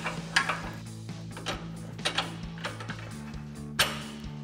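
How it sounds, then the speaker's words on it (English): A pry bar levers down on the lower control arm of a 2019-2023 RAM 1500 while a lower strut bolt for a Rough Country 3.5-inch lift goes in, giving faint, sparse metallic clicks and taps over a steady low hum. "we'll grab that pry bar and pry down on our lower control arm while we put our bolt in"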